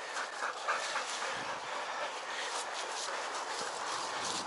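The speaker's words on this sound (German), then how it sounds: "Solche Hunde muss man ausspannen." Working sled dogs in harness, a steady busy mix of yips, whimpers, panting and movement noise throughout, fairly close and continuous, with no talking.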